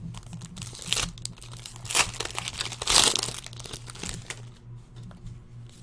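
Football trading card packs from a 2015 Playbook case being ripped open, close crinkling and tearing of foil wrappers in quick uneven bursts, with no speech.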